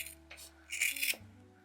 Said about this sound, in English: I'm just going to cut off the majority of it.